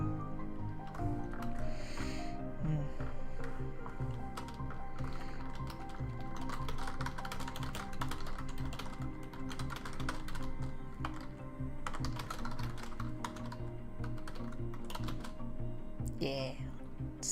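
Steady rapid typing on a computer keyboard, close and continuous clatter of keystrokes for the whole stretch, with occasional faint background sounds.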